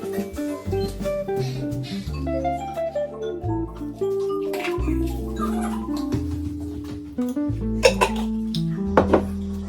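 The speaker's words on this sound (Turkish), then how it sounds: "Biraz karıştır." Chili flakes, tomato paste and salt being stirred in a pan, heard as continuous scraping and clinking of a utensil against the pan, close and busy, with a low tonal background running underneath throughout.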